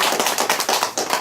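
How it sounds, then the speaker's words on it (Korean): Audience clapping at the close of a lecture at a Korean co-founding business briefing, a steady run of close, sharp claps at moderate loudness. "우리 대표님에게 뜨거운 박수 한번 다시 부탁드립니다"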